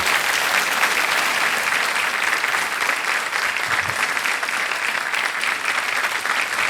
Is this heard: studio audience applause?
yes